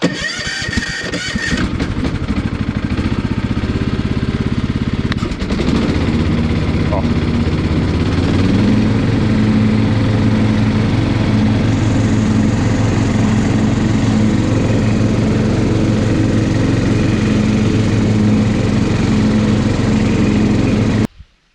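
A ride-on lawn tractor mower idles, then its engine revs up as the cutting blade engages, settling into a loud, steady mechanical drone before cutting off abruptly at the end; someone speaks in Polish early on.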